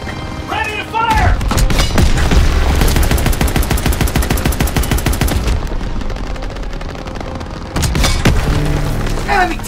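Tank cannon and gunfire against German armor in Call of Duty WWII, with heavy booms and a long rattling burst of rapid fire, loud and close, with shouted voices over parts of it.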